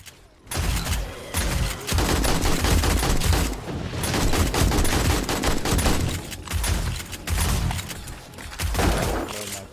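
Automated turret fire in 7 Days to Die, a dense, continuous fusillade of rapid gunshots with booming impacts running nearly the whole time, loud and close, with only brief gaps.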